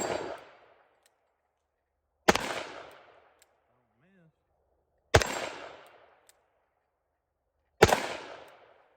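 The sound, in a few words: Smith and Wesson Model 60 revolver shooting .357 Magnum at steel plates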